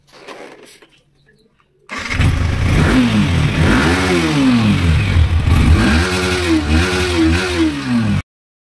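A motorcycle engine in a garage starts after a brief quiet moment, then revs repeatedly in rising and falling surges, loud and close for about six seconds before cutting off.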